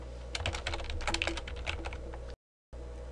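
Computer keyboard keys tapped in a quick, uneven burst while entering a file name, close and soft, then a short silence before faint room tone returns.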